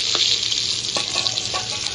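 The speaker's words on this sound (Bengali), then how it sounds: "পটলগুলো বেশ লাল লাল করে ভাজতে হবে।" Pieces of potol (pointed gourd) fry in hot oil in a kadai, a continuous bright sizzle with a few soft scraping stirs.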